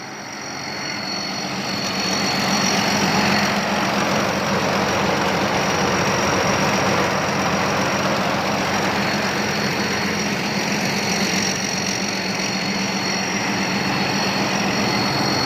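A modified car's engine runs steadily after starting, a loud continuous drone with a dense rumble that swells in the first two seconds and then holds evenly, with no one speaking.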